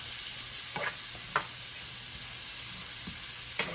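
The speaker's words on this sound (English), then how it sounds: "we're just gonna add in our onions and peppers, and they can all just toss right in" Onions and peppers sizzle steadily in a pan for Cajun salmon pasta, a constant close hiss broken by a few brief scrapes as they are stirred, with no talking.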